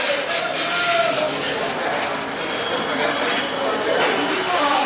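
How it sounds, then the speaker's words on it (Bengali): Busy railway station ambience in Khalishpur, Khulna, before boarding a local train: a dense, steady wash of crowd murmur and hiss with indistinct background voices, no single sound standing out. "বন্ধুরা, আমরা স্টেশনে চলে আসছি"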